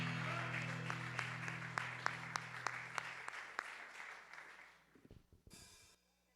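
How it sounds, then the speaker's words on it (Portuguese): A church congregation at a worship service claps in a slow, even rhythm over a sustained organ or keyboard tone; the claps thin out and fade, then give way to quieter, muffled sounds. "aplauda o nome do Senhor"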